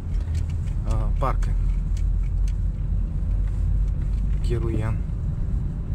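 A car drives through a snowy residential district of Kostanay, its steady low road rumble continuous throughout while people inside talk over it.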